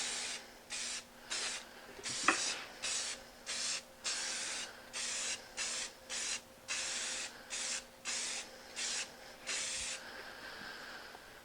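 An aerosol can lays a light coat of yellow spray paint on a homemade zero clearance insert plate, giving about fifteen short hissing bursts in a regular rhythm, each lasting around half a second.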